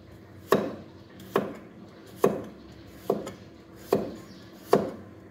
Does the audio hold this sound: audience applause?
no